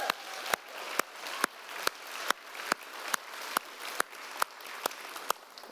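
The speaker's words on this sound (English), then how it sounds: "let's do a big applause." Church congregation applause, a steady wash of many hands clapping with sharp regular accents, moderately loud and continuous throughout.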